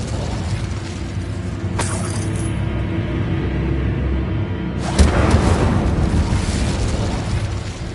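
A fire spell cast in the Hogwarts video game, with a sharp whooshing burst near the start and a louder, broader burst midway that lingers over a steady background hum.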